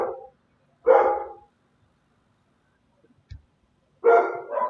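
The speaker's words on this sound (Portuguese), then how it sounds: "Meus cachorros tá querendo participar da oração também." Pet dogs barking indoors nearby: a loud single bark, then another a moment later, a short quiet gap with a soft thump, then a final pair of loud barks close together.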